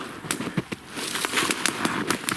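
A freshly lit campfire in frosty winter taiga pops and crackles with sharp, irregular snaps in quick succession, close and fairly loud, with no speech.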